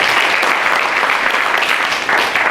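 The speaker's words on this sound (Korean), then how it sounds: "큰 박수를 부탁드립니다." Audience applause fills a forum hall with a youth policy panel and a party leader, steady dense clapping throughout that dips briefly and then swells again.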